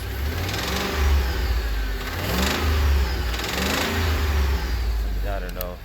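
Engine of a 2008 Ford F-150 with the 4.6L V8 and a knock, revving up and easing off in swells, a rough mid-pitched drone with rhythmic tapping under it and a voice talking briefly near the end.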